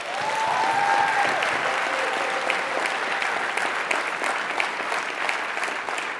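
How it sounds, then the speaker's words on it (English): A nurses' union convention audience applauds members of Ontario Health at Home, a sustained, even wash of many hands clapping at moderate distance, with a faint voice briefly over the start. "let's give them a round of applause"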